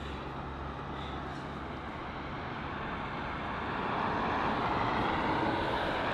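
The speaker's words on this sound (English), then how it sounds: "the Lot 737 MAX 8 that we saw on the tarmac, it's just departing now" A LOT Polish Airlines Boeing 737 MAX 8 jet departs London Heathrow, its broadband engine roar steady and fairly loud before swelling further in the last couple of seconds as it climbs away; no one speaks.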